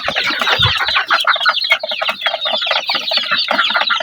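Dense clucking and peeping from a flock of 40-day-old chicks being raised on a farm, continuous overlapping calls close by with no talk.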